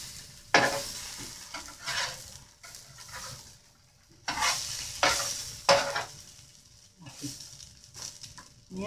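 Pambazo bread fries and browns in a pan, with bursts of sizzling and scraping as the bread is moved and pulled apart, separated by quieter moments of low frying.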